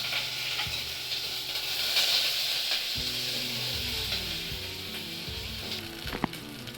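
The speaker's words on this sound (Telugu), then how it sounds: "ఇప్పుడు ఆనియన్, కరివేపాకు అన్నీ వేసేద్దాం." Chopped onion and curry leaves frying in a pan keep up a steady hissing sizzle up close, with a faint low hum in the background and a single sharp knock near the end.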